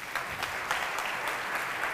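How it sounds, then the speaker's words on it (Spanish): A crowd at a Blacklladolid gathering gives a loud, continuous ovation for Manuel Marlaska, a dense wash of many hands clapping at once without pause. "Manuel Marlaska, al que pido un fuerte aplauso."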